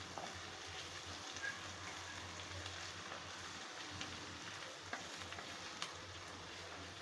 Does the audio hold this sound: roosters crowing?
no